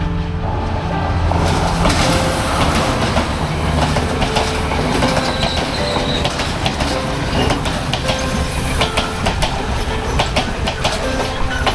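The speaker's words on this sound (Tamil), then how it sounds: "ட்ரெயின் வருது பாருங்கள்." A passenger train in Sri Lanka rumbles past up close, loud and continuous, with rhythmic clattering of wheels over the rails and occasional metallic squeals.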